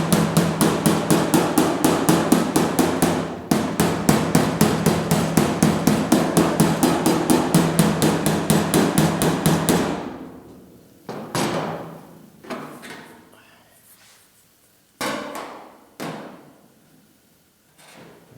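A slapping spoon is hammered against the sheet metal of a GTO quarter panel, with a rapid, steady run of loud ringing metallic smacks. Then come a pause and a few slower, isolated hard knocks spaced well apart.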